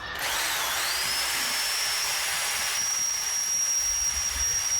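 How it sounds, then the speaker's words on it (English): A power drill with a 5/16 bit whines continuously at high speed, close and loud, its pitch holding steady as it bores through material. "And we'll drill the hole all the way through on both sides."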